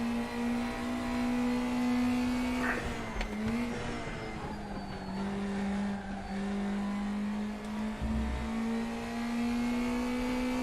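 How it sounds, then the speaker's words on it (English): A video game race car engine from RaceRoom Racing Experience, a WTCR car, whines at high pitch, dropping briefly as if shifting, then climbing and holding a steady, screaming tone; no voices. "I also love the sound of this thing. It just screams its way up the revs."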